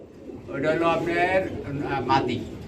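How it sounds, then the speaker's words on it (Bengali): Danish pigeons in a pigeon keeper's loft giving soft, rolling coos close by, a few drawn-out calls over about three seconds. "এখানে দেখতে পাচ্ছেন আরেক জোড়া ড্যানিশ কবুতর রয়েছে"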